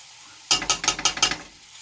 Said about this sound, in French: On fait un petit tour de cuillère. Je mets ensuite ma purée d'ail.